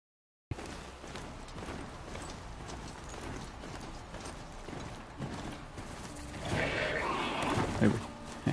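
A horse-like machine walks in the Horizon Zero Dawn video game, its rhythmic mechanical clip-clop hoofbeats steady at first, then growing louder and busier near the end over game ambience.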